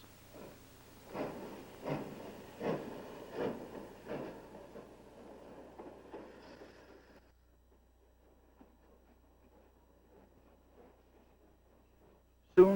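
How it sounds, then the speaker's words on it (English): Steam locomotive 293, its log-fired furnace being stoked, chuffs in a steady, evenly spaced rhythm that is faint and soon fades away, leaving near silence. "Locomotive engineer Hugo Jalova took on Lenin as his stoker on his locomotive 293."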